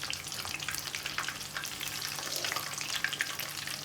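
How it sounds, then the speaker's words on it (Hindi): Chicken pakora deep fry in hot oil, a continuous close crackling sizzle with dense bubbling pops and no voices. "इनको अभी 2-3 मिनट हैं और फ्राई होने में।"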